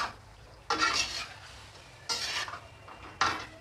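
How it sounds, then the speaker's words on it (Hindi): Chicken karahi being stir-fried in a wok, with three distinct scraping strokes of a spoon against the metal over a low, steady sizzle, each stroke loud and close. "और इसकी फिर से करेंगे भुनाई, अच्छे से इसको मिक्स करेंगे।"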